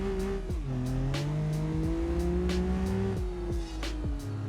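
A 400-horsepower car with a manual gearbox in the BeamNG driving game accelerates hard, its engine note rising and dropping through repeated gear changes, loud and continuous with no one talking.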